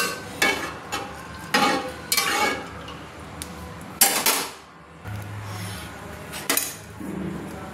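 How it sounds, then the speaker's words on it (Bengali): Simai vermicelli simmering in milk in a pot is stirred with a utensil, giving repeated scraping and clinking bursts against the metal at a steady, unhurried pace, close and clear with no talk. "এইভাবে মাঝে মাঝে আমি সিমাইটাকে নেড়ে নিচ্ছি।"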